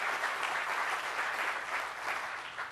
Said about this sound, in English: So please give a round of applause to every Congress member and everyone seated behind me